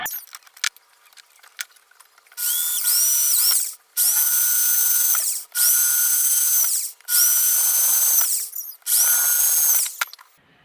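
A power drill with a drill bit runs in five loud, sustained whining bursts separated by brief pauses, each revving up and holding steady, with small clicks and handling noises before the first burst.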